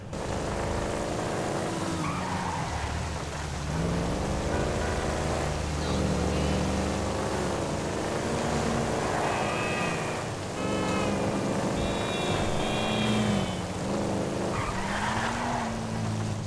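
Mustang muscle car in the GTA 5 video game, its engine revving and roaring through repeated gear changes while tires squeal and skid in several long screeches, loud and continuous throughout.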